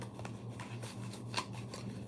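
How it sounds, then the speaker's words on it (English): Soft, continuous riffling and shuffling of a deck of cards close by, with a brief sharper snap near the middle and a low hum underneath. "Let me shuffle these cards"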